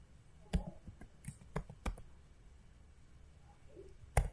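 Scattered keyboard clicks as a command is typed, a handful of sharp taps spaced irregularly with a louder final keystroke, quiet and close.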